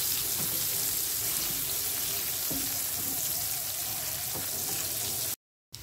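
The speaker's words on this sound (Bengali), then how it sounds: "এই সমস্ত উপকরণ দিয়ে আমি খুব ভালো করে ভেজে নেব।" Onion, nigella seeds and dried chili frying in oil for a spicy Bengali fish dish, giving a dense, continuous close sizzle with faint stirring clicks, ending abruptly in a brief silence before the hiss resumes.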